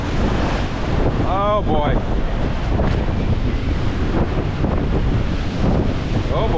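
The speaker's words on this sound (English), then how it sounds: "Come on, waves. Work with me." Rough surf crashes against the rocks beside a cliff path on a stormy day, a constant loud roar mixed with heavy wind buffeting the microphone, while a person briefly exclaims.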